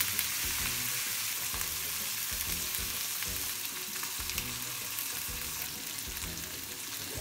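Chicken pieces fry skin-side down in a pan over medium heat for teriyaki chicken, giving a loud, continuous crackling sizzle with a low background rumble throughout.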